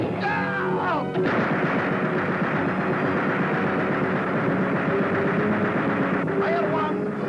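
A cartoon ship's deck gun fires amid a dense, loud roar of blasts and rumble that fills the whole stretch, with sharper cracks near the start and end.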